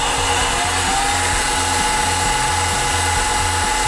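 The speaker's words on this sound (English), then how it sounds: "now we're going to put in a 4 flute 3/8 inch end mill, and we're going to clean up the top" A milling machine cuts with a 4 flute 3/8 inch end mill at about 2,000 RPM on a belt-converted mill, making a loud steady whine with a rapid pulsing chatter underneath.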